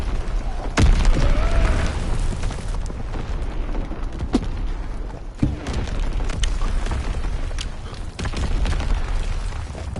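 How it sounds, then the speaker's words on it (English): Heavy wartime bombardment in a World War 2 shooter: a loud, sharp blast near the start gives way to a sustained, rumbling roar of explosions and debris, with further thuds and cracks throughout, dense and close. "Enemy bomb incoming. Get to cover."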